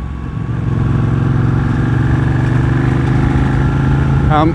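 A Ducati 1199 Panigale motorcycle engine runs close and loud with a steady, throbbing low rumble, holding near idle before a quick rise in revs at the very end.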